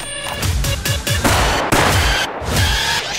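Rapid bursts of gunfire from a police officer's service weapon, a string of sharp, loud close shots in quick succession over about three seconds with no voices.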